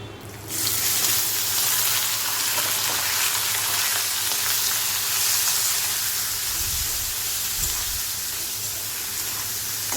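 Chopped onions fry in hot oil with whole cumin and bay leaf in a pan, a loud, continuous sizzle that starts abruptly and holds steady with a few low knocks near the end.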